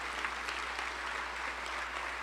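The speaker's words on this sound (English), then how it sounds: "Can we have a round of applause" Faint, distant applause fills a theater hall at a State of the City address, an even wash of many hands clapping at steady volume.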